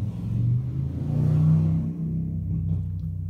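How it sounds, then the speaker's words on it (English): A loud motorcycle roars past nearby, its rumbling engine rising then fading away over a few seconds. "it's really cool to be loud in your motorcycle and ruin other people's reviews"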